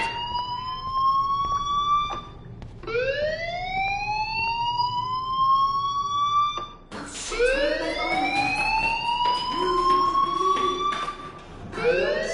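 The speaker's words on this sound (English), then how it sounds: "Hey, do you hear that fire alarm? That means you should be outside." A fire alarm in the video game Life is Strange wails in long rising sweeps, three loud, close cycles repeating without pause and with no talking.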